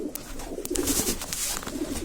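Racing pigeons coo inside a backyard coop, soft throaty calls overlapping continuously against a steady murmur of birds, close and moderately loud.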